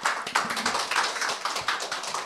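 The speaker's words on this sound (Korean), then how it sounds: "박수 부탁드립니다." Audience applause at a radiation medicine forum as a session chair is introduced: dense, steady clapping from many hands, fairly close and even, with no voices over it.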